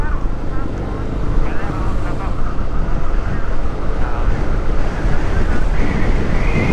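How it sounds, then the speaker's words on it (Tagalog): Strong wind roars over a motorcycle rider on a road near Bongabon in the Philippines, loud and continuous rushing buffeting the microphone from start to finish. "Bakit kaya malakas ang hangin dito?"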